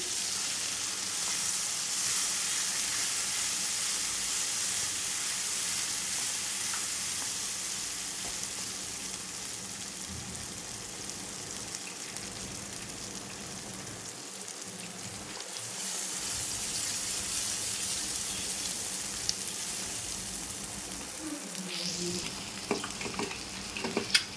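Onion, cashew and black pepper paste frying in oil for a dhaba-style egg curry, a long steady sizzle close up with the ladle scraping and turning it now and then, and a brief run of water late on; no talking.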